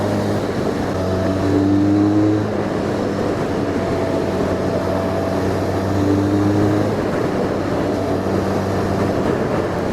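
A Harley-Davidson X500 with a 500cc parallel-twin engine runs on a test ride, a loud steady drone with rising and falling tones as it revs and shifts, with no talk.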